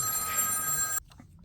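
A telephone bell rings loudly and steadily for about a second, then cuts off abruptly into near silence with faint knocks.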